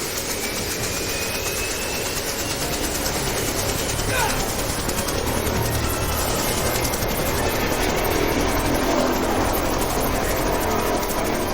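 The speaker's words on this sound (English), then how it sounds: "Set the chopper down." A helicopter flies in the Jurassic Park video game, its engine roar a continuous, loud drone with a faint rhythmic rotor throb throughout.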